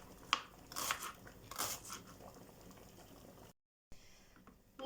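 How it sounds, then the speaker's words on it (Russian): A medium onion chopped with a knife on a cutting board, giving close, irregular crisp cuts in short bursts, with a brief dropout near the end. "луковица у меня одна, средняя луковица. Тоже миленько нарежу."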